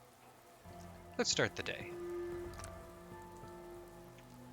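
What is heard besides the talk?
rain falling indoors in Fallout 4, video game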